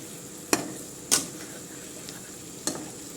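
A spoon stirs egg curry frying in a pan, giving three sharp scraping clinks spaced over a few seconds above a low, faint sizzle.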